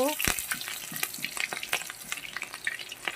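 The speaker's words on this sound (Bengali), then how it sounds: "তেলটা গরম হয়ে গেছে দিয়ে দেবো কিছুটা কালো জিরে দিয়ে দেব চেরা কাঁচা লঙ্কা কাঁচা লঙ্কা দিয়ে দেব থেতো করা রসুন দিয়ে দেব" Black cumin, slit green chilies and crushed garlic dropped into hot oil, crackling and sizzling sharply in a pan with bursts of popping and stirring, close and fairly quiet, no talk over it.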